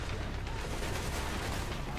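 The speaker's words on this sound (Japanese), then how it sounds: "なんで爆発した" An explosion in Call of Duty: Black Ops, a dense, continuous roar of blast and gunfire-like crackle filling the whole stretch at steady loudness, with faint voices underneath.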